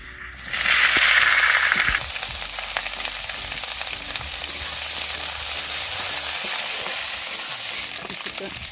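Onions drop into hot oil with garam masala, bay leaf and dried red chilli, giving a loud burst of sizzling that settles into steady frying with occasional stirring clinks, close and alone.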